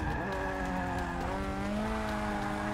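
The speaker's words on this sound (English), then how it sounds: "Come on, we're drifting just a little bit." Formula race car in Forza Motorsport 6 drifting through a corner, a loud, steady engine whine with shifting harmonic tones and tire squeal, continuous and close throughout with no talking.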